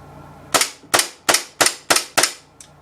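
A KWA FPG airsoft gas blowback machine pistol fires six sharp, loud reports in a steady semi-automatic rhythm, each crack ending in a brief metallic decay, with a fainter seventh pop at the end and no talking.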